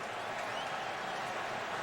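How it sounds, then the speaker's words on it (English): A football stadium crowd at an Eagles–Cowboys game reacts to the referee with a sustained, loud, roaring wash of voices, steady and distant with no distinct cheers standing out. "The crowd's giving Gene Steratore a little opinion."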